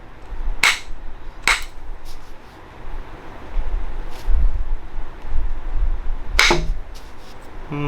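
Flint knapping on a Kentucky Hornstone Dalton point during basal thinning produces three sharp, ringing strikes, spaced irregularly, with faint softer taps and wind noise in between.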